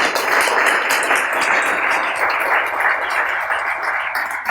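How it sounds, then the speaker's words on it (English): An audience claps steadily after a medical community lecture on multiple myeloma, an even, moderately loud round of applause with no talking. "let's give a warm round of applause for Dr. Larson."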